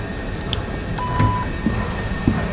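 Rotterdam metro train rumbling along, a steady low mechanical drone with a brief thin whine and a few soft knocks, heard from inside with no talking.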